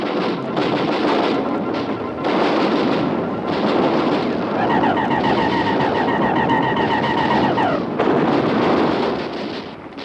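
Heavy artillery batteries firing as a 1955 radio drama sound effect, a continuous loud barrage of booming blasts and rumbling explosions with a whistling, warbling tone sweeping through the middle.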